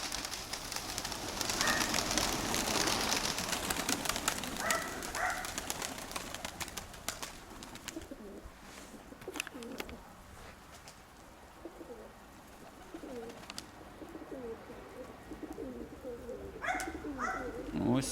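Pigeons coo softly in low, throaty murmurs, mixed with a broad background rush and a few brief voices at moments.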